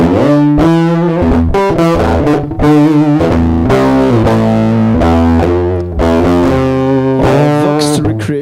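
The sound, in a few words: very noisy fuzz audio effect plugin on guitar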